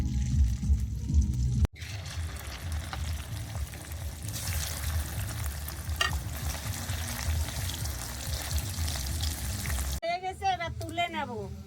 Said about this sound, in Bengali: এইবার চিকেনটাকে ভেজে নেব।